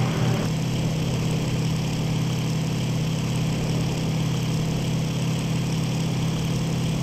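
Aircraft engines idle and rumble steadily while taxiing in the flight game IL-2 Sturmovik 1946, a continuous low drone with a faint higher whine and no voices.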